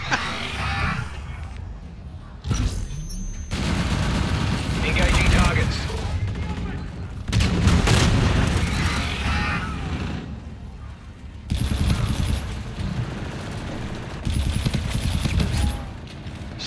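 Gunfire from the first-person shooter Call of Duty: Infinite Warfare in a team deathmatch on the Terminal map, heard as loud sustained bursts of shots layered with game effects and voices, with brief pauses between volleys.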